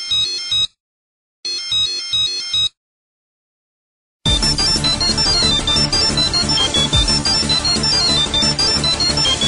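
A melodic phone ringtone plays in two short bursts separated by silence, then resumes after a pause as loud, continuous ringing.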